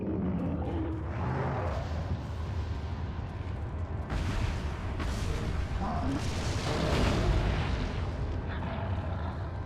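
A grenade explodes in the video game Resident Evil 4, heavy booming blasts and rumbling bursts within a busy, loud game mix, the strongest near the end.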